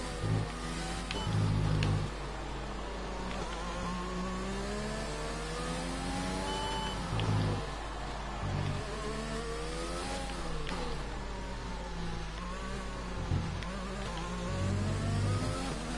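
A Formula 1 car in the F1 2020 racing game revs and downshifts through corners, its engine whine rising and falling in repeated sweeps with brief gear-change dips, steady and close throughout.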